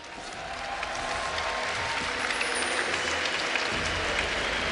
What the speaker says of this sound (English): let me hear you guys cheer for Counter Logic Gaming Europe.